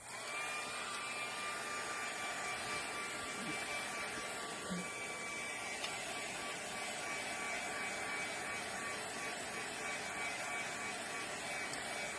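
A small electric heat tool or hair dryer whirs steadily and continuously for over twelve seconds while drying a water droplet painting, with a constant airy hum at moderate volume and a faint high whine.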